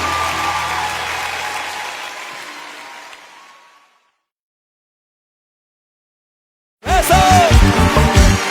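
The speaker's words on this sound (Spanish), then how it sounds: "Ese aplauso fuerte, hermano." Applause from a congregation at a Christian church concert roars loudly, then fades away into silence, before a burst of music and clapping crowd noise abruptly returns.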